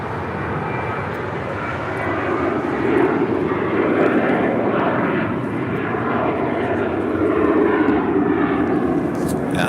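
A Cayman Airways jet taxiing at LAX toward a south side departure, its engines rumbling and whining nearby, swelling and easing in loudness as it rolls along.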